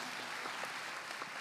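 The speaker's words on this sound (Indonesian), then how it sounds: "tepuk tangan dulu dong ya Allah" A short burst of applause from people at a discussion session, a continuous patter of clapping that sounds quiet and somewhat distant.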